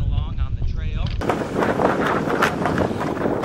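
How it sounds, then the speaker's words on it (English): Wind gusts buffet the microphone outdoors on a riverside trail while the recordist moves along, a steady broadband roar that fills the clip after a brief quieter start with a voice. "It's pretty windy out and I'm buzzing along on the trail."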